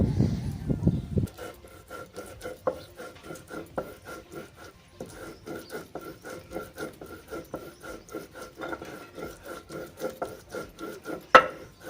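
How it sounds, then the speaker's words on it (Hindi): Chutney is ground by hand on a stone, a steady rhythmic rubbing and scraping with repeated strokes, close and moderately loud, running for about ten seconds without talk. "चटनी रगड़ा है।"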